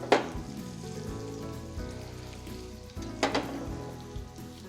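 Curry leaves hitting hot oil while cooking dahi ka salan give a steady sizzling hiss, with two sharp crackling bursts as they go in, one at the start and another partway through.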